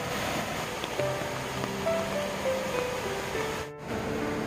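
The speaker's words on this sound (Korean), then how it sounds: "오늘은 비가 내리고 있습니다" Rain falling at Wolhwatan in Muju Gucheondong valley, where a waterfall pours over rocks, a steady wash of rain and rushing water with faint tonal birdlike notes and no talk.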